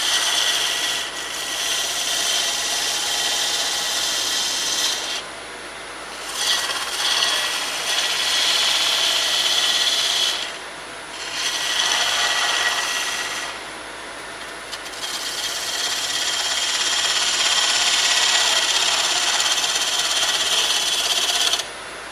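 A parting tool cuts a relief groove into spinning wood on a lathe, giving a loud, continuous rasping scrape that pauses briefly twice and then resumes, with no talk.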